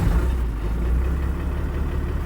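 An old diesel engine, preheated with glow plugs, runs with a low, rough, chugging rumble, close and fairly loud, with no talk over it.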